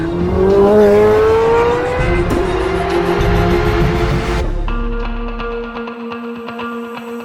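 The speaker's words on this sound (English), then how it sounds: "It is on, the car's running, and the exhaust is open." A Chevrolet C8 Corvette runs with its exhaust open, roaring loud and close as the revs climb, then dropping to a steady rumbling idle with crackling pops.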